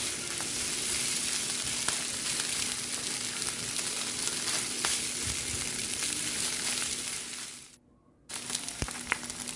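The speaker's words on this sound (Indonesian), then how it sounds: "Kalau telurnya sudah matang, kita lanjutkan mengaduk semuanya sampai bumbunya merata" Egg and spices fry in a pan while being stirred, a loud continuous sizzle with light scraping ticks that briefly cuts to silence near the end before resuming.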